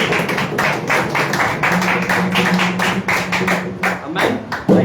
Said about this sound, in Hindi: आइए एक जोरदार ताली के द्वारा प्रभु को धन्यवाद दें।